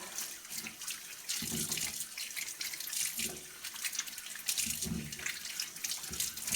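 Water runs steadily from a tap while garlic is washed in a basin, with splashing and sloshing surges that rise and fall as the cloves are handled, close and continuous.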